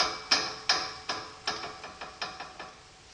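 A C-clamp is tightened onto a wood, granite and wood stack holding a template, giving a run of about eight sharp, close metallic clicks that grow fainter and closer together.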